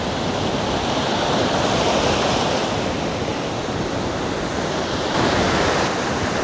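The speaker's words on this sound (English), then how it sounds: "Certainly is a bit rough, that sea today." Rough sea waves break on a beach on Zakynthos, a continuous loud wash of surf with gentle swells in intensity and no voices.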